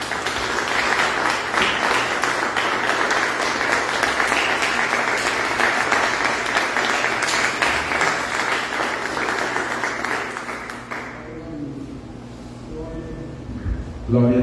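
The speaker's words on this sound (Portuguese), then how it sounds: "Dê um aplauso ao Senhor." Church congregation applauding, sustained dense clapping from many people in a hall, loud and continuous for about eleven seconds before fading, with a voice speaking over it.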